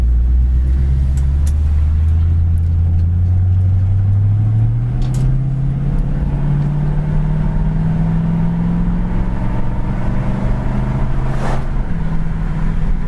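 A 1966 Ford Mustang GT V8 drones steadily from inside the car while driving, its low rumble rising in pitch as it accelerates through a kickdown, loud and continuous with no talking.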